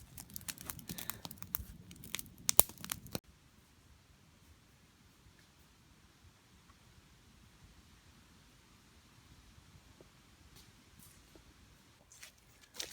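Duct tape rips off the roll in a burst of crackling tears and crinkles for about three seconds, then a long near-silent stretch with faint rustling, patching a small hole in a tarp at a solo hammock campsite.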